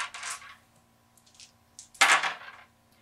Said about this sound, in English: Roll all 5 dice.